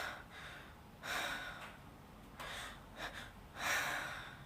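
Slow, deep calming breaths, several long airy inhales and exhales spaced about a second apart, close and moderately quiet, with no talk.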